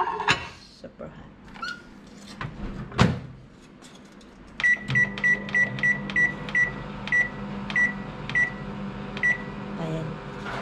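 A microwave oven heating cassava cake hums steadily after a few clicks and a door thud, its rhythmic beeps sounding at regular intervals, close and clear while someone speaks.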